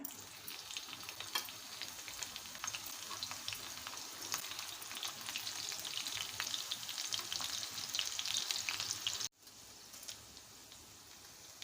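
Green chillies fry in oil in a pan on the way to sabudana khichdi, a faint, steady sizzle with dense crackling pops running for about nine seconds before a brief cut and a quieter continuation.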